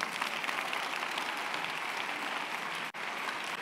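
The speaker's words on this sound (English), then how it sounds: "you see that you can't clap? Try and clap." A church congregation claps continuously in a dense wash of hands, steady and moderately loud, with a brief break near the end.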